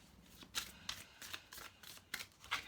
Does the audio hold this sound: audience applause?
no